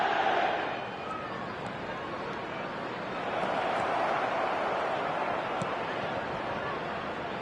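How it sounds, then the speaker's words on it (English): Steady roar of a large stadium crowd in a PES 2026 football match, a broad, continuous wash of massed cheering that swells slightly midway and never drops away. "the crowd level has gone up a notch or 10"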